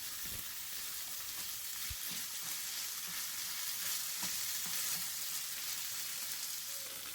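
Ground meat and tomato sauce for lasagna frying in a pan, a steady bright sizzle with occasional soft scrapes and thuds of stirring, close and continuous with no talk.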